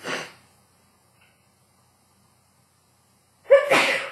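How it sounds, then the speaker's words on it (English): One sharp sneeze, then near-silence for about three seconds before another explosive sneeze bursts out at close range. "every time I tape I have to sneeze"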